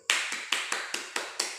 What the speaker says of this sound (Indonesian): Ayo kita tepuk tangan semua.